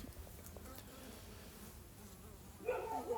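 Honeybees fly at the entrance of a small mini nuc hive on a cold, sunny winter day, a faint steady hum that swells into a louder, closer buzz near the end.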